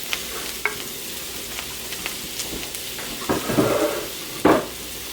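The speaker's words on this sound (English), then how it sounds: "Add our mushrooms to the pan" Mushrooms dropped into a hot pan slicked with leftover pork chop fat, giving a low steady sizzle with soft stirring scrapes and a louder hiss burst near the end.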